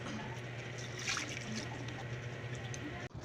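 Water is poured into a cooking pot for fish paksiw, a soft steady trickle and splash running continuously at low level against faint kitchen background noise.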